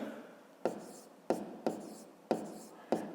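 Numbers being written by hand in a fifth-grade maths exercise, quiet close scratching of a pen on paper with a few sharp taps as strokes begin.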